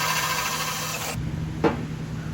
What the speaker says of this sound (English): he's gonna do is kiss all these holes with a 1/4 inch bit